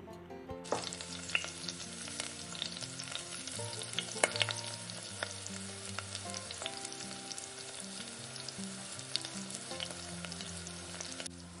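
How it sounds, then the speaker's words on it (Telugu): Sweet banana bonda balls fry in hot oil over a low flame and are turned on both sides. A dense, steady sizzle with crackling bubbles plays close up throughout, with no voices. "ఈ అరటి పళ్ళని రెండు వైపులా తిప్పుకుంటూ సన్నటి సెగ మీద ఫ్రై చేసుకోవాలి."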